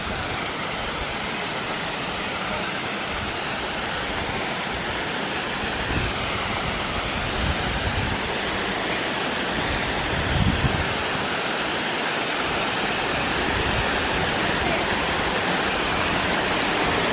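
Cheaha High Falls in Alabama roars as a steady, dense broadband rush of falling water, loud and close, continuous throughout with only slight swells.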